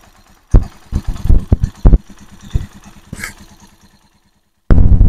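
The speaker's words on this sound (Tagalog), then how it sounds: "Paparinig ko sa inyo yung andar ng ating engine" A Rusi Chariot 175 motorcycle engine runs close to the mic with irregular revving bursts and clatter, then a short quiet gap before a loud steady engine rumble returns at the end.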